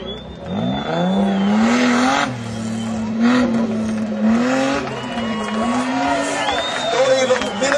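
Race car engines whine and roar at a motorsport final, pitch rising and falling as cars accelerate and pass, with tire squeal and crowd noise beneath a continuous loud wash.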